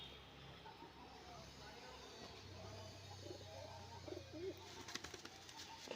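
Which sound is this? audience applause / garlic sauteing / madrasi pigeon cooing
madrasi pigeon cooing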